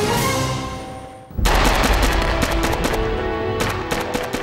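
Gunfire in a Los Angeles police shootout with two heavily armed gunmen: a loud sustained burst, a brief drop, then rapid dense volleys of shots continuing close and loud.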